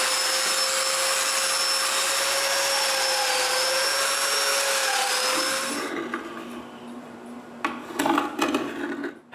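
A power drill bores mortises in wood for a cat tree, running loud and steady for about six seconds with a high whine, then stopping, followed by a few brief knocks and handling sounds.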